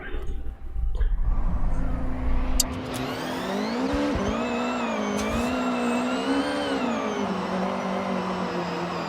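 A very light race car in the Forza video game, its engine droning and revving in a steady rising and falling whine with tire squeal layered on top, loud and continuous throughout.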